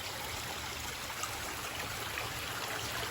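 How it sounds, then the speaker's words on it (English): Spring water trickling out of the ground, a steady, soft, continuous babble of flowing water, faint and close, with no voices. "a point where the water is coming out of the ground"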